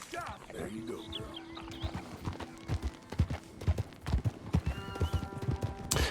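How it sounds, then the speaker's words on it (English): Horse hooves clip-clop in a steady, close rhythm in Red Dead Redemption 2, joined briefly by a whinny, with soft background game sounds. "Let's give this horse a carrot."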